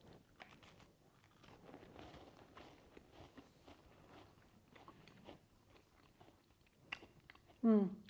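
A teff flour, egg-free and gluten-free chocolate chip cookie being taste-tested, with soft close chewing and crunching over quiet room noise, ending in a short loud voice burst.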